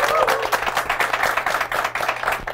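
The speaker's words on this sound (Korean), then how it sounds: "오늘 수고해주신 세 분의 MC분들 박수 부탁드리겠습니다." An audience claps for three MCs at a Korean CEO talk event, a brief burst of dense, continuous applause heard fairly close.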